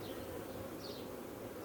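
Honeybees hum continuously at a beehive in Kincardine, a dense, even drone of many wings close by, with no voices.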